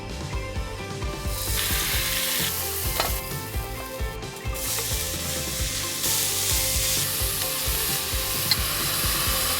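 Loud, steady sizzling as red wine deglazes a hot 4.5-litre Fissler pressure cooker pot after browning beef short ribs, with scraping and stirring over the bottom, no voices.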